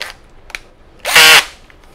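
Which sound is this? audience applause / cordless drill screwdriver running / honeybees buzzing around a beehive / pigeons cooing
cordless drill screwdriver running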